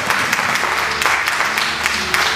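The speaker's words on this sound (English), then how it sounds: "Give the Lord a hand clap of praise and glory" Rhythmic hand clapping from a church congregation in praise, steady and fairly loud, with voices and music-like tones underneath.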